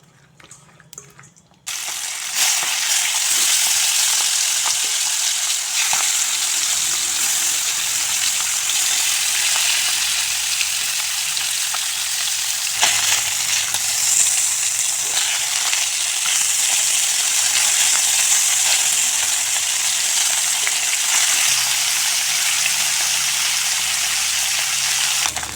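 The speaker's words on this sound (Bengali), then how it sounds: "কড়াইতে তেল দিয়েছি, এখন মাছ দিয়ে দেব" Turmeric-coated fish fries in oil in a wok, a loud, steady broadband sizzle that starts abruptly after a brief quiet moment and holds unbroken for over twenty seconds, close and alone without any voices.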